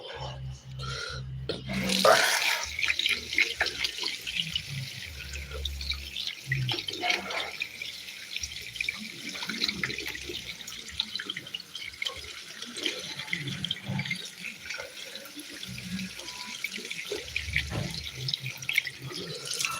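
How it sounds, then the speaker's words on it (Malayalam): Tap water runs and splashes into a sink as hands are washed at home after dinner, with irregular gushing and dripping over most of the stretch and a person's voice occasionally heard. "അപ്പോൾ ഇനി നമുക്ക് കൈ കഴുകാം"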